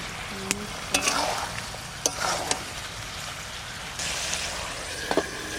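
Goat meat curry fries in a pan with a soft, steady sizzle, broken by sharp clicks and scrapes of a spoon stirring against the metal.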